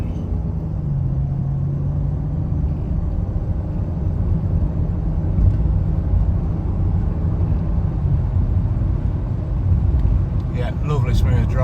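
A BMW E39 5 Series sedan cruising on an open road, heard from inside the cabin as a loud steady low engine and road rumble that runs throughout with little change.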